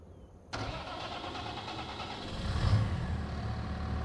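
Harvester mower engine in a farming video game, starting abruptly then running at a steady mid-pitched drone that swells a little as it works.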